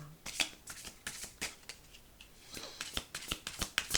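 A deck of Oracle du Messager oracle cards is shuffled in quick, crisp riffling bursts, close and fairly quiet, with short pauses between rounds.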